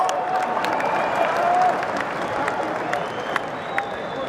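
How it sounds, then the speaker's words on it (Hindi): Audience applause at a political speech, a steady wash of clapping with some crowd noise running throughout at moderate loudness. "ठोको ठोको, ताली ठोको।"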